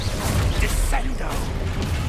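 Descendo spell effects in a wizard video game: a brief burst of smashing, whacking impacts mixed with ratcheting mechanical clatter and a quick whoosh, steady and fairly loud throughout.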